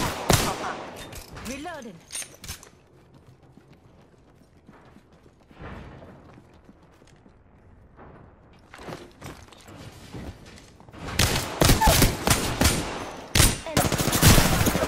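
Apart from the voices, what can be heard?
gunfire in the video game Apex Legends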